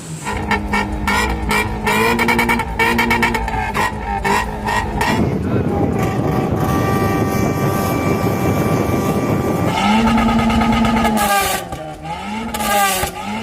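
A car engine revs repeatedly with a loud, throaty exhaust note, rising and falling in bursts, close up, with a steadier roaring stretch in the middle.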